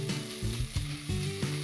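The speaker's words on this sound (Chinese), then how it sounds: "腌过的鸡胸肉丁下锅炒" Diced marinated chicken breast stir-fried in a wok over medium heat with grated ginger, a spatula breaking it apart: close, continuous sizzling with rhythmic scraping strokes about every third of a second.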